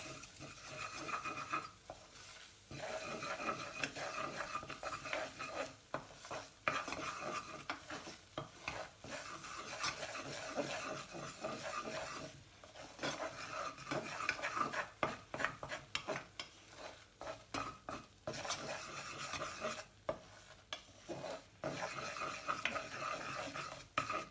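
Flour is stirred and toasted in melted butter in a pan for a milky tomato soup: quiet, continuous scraping of a utensil with a soft, low sizzle and no talking.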